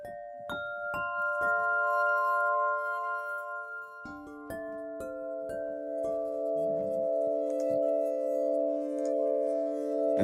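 A synthesizer playing the Awakened patch from the Purity library gives pure, glassy bell-like tones in overlapping sustained notes. Soft chords ring out with gentle attacks and long decays, quiet and alone.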